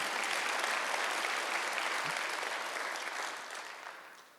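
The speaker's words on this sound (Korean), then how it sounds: "박수 한번 쳐봐요" A church congregation at a Sunday worship service claps together in a steady, sustained wash of many hands, tapering slightly near the end, with no speech over it.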